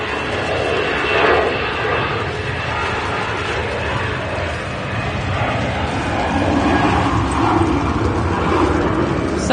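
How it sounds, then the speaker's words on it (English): An EasyJet Airbus A320 at Manchester Airport passes with a steady, loud broadband jet engine roar that swells slightly near the end, with faint rumbling underneath. "There is a EasyJet A320 going to Nice"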